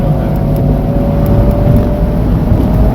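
A Fiat 124 Spider engine drones loudly and steadily from inside the car on the track at VIR's Patriot Course, with a continuous low roar and a faint whine and no clear rev change or gear shift.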